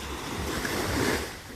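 Ocean waves and surf at sea heard from a fishing boat, a steady broadband wash with wind noise on the microphone, continuous and fairly close, with no talk over it.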